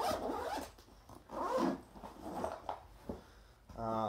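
A camera bag zipper is pulled open in several close, raspy strokes with short pauses between them, fairly quiet overall.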